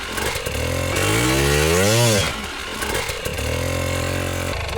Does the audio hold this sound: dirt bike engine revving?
yes